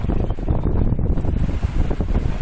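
Strong wind buffets the microphone aboard a sailboat at sea during an Atlantic crossing, a loud continuous roaring rush with a wash of waves beneath, no voices.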